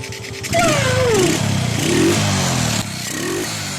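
Engine of a Honda Wave 125 motorcycle, flooded so that water got into the fuel, running steadily just after starting, fairly loud and close, with some rising revs and mechanical clatter; a few voices speak briefly over it.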